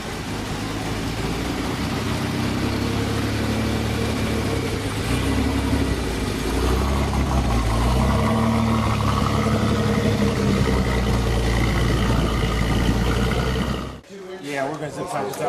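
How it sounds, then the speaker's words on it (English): A team's race car drives up to tech inspection before a 24-hour race, its engine droning loud and close for most of the stretch and then cutting off abruptly near the end, while people talk. "now driving the team's car up to Tech Inspection"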